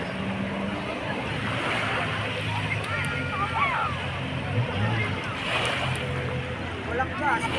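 A motorboat running on Manila Bay off Dolomite Beach, a low steady drone blended into wind buffeting and lapping waves, with voices and bird chirps scattered through.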